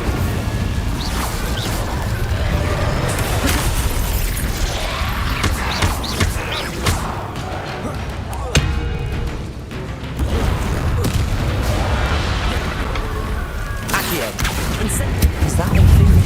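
Fire spells are cast during Hogwarts Legacy combat, with repeated whooshing bursts, thuds and crashes of magic layered into a loud, busy battle mix while a player's voice speaks over it throughout.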